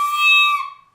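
A recorder squeaks as a finger leaves its hole partly uncovered, giving one shrill, steady high whistle with a hissy edge that holds for about half a second and then trails off.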